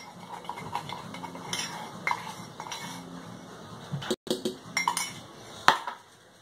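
Green corn cake batter being beaten by hand in a bowl, the utensil scraping and clinking against the sides in quick, uneven strokes with occasional sharper knocks, close up and without talk.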